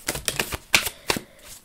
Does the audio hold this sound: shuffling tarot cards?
yes